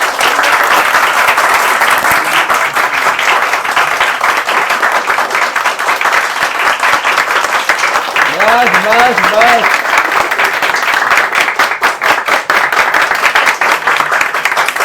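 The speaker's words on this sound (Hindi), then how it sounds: "आप तालियां बजा सकते हैं।" Students in a lecture room break into loud sustained applause and clapping at the end of a physics class, continuous and dense, with a voice speaking briefly over it.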